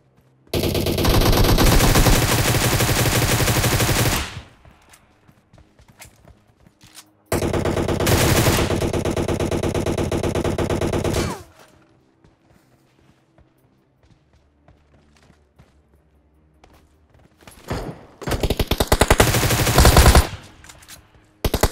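In PUBG Mobile, a Groza assault rifle fires three long sustained automatic bursts, loud and dense, separated by stretches of near silence with faint thuds and footsteps.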